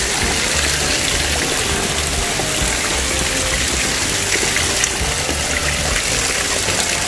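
Water pours down as a small waterfall beside a cliff, a steady loud rushing gush that holds close and unbroken throughout.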